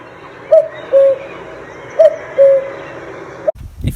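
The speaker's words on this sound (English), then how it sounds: "Another bird you may see around the heaths is the cuckoo, with its very distinctive cuckoo call." A cuckoo on the heathland at Minsmere calls twice, each a clear two-note hoot at moderate distance over quiet outdoor ambience, ending in a brief rustle.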